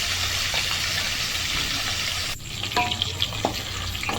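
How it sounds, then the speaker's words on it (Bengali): Rohu fish pieces fry in oil with a loud, dense sizzle for the first half, then a quieter crackle broken by a few sharp spatters and utensil knocks. "যার জন্য আমি একটু হালকা লাল লাল করে মাছটাকে ভেজে নেব।"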